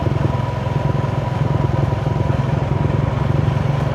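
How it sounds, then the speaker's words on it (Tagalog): Yamaha Sniper 155 motorcycle engine braking on a stock engine with tuning: a steady, loud, close engine drone with a rough, pulsing clatter and no pause. "Yan o, engine brake."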